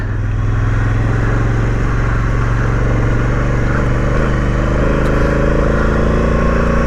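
A Honda Africa Twin motorcycle climbs a muddy hill on an off-road logging trail, its engine a loud, steady close-up drone with a slight change in pitch partway through and no talking.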